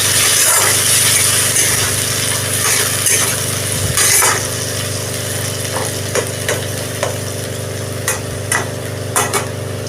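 Cumin and ginger paste frying in a pan for a Bengali foli fish curry with green banana, giving a steady loud sizzle with occasional stirring scrapes and clinks, no talking.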